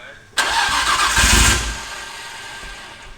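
A Nissan R34 GTR engine cranks and catches in a sudden loud burst, holds a rough rising roar for about a second, then settles into a lower steady run close by, with voices around it.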